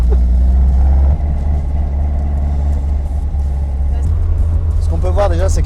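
Alfa Romeo 105 engine idling with a deep low hum, then revving and pulling away as the car drives off, loud and close, with a person talking over it toward the end.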